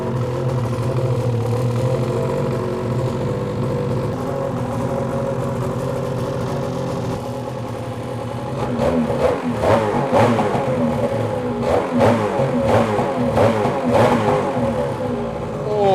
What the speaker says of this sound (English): Cold start. New exhaust, of course we got to.